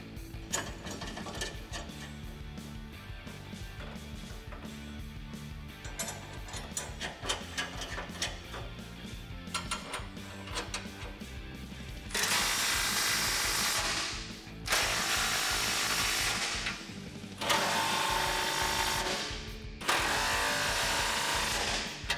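Ratchet tightening the original 21mm nuts on a tubular off-road front bumper fitted to a 2010-2014 Ford F150 4x4, with quieter mechanical handling first, then four loud sustained bursts of rapid clicking separated by short pauses.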